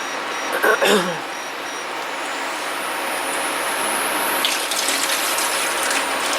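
A stove is switched on under a kettle used for dyeing superwash merino yarn. A brief ratcheting click from the control comes first, then a steady, even hiss of heat underneath.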